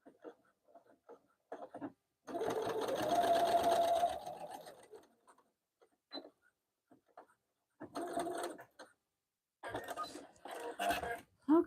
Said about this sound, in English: I'm going to sew my lining at 3/8 inch seam allowance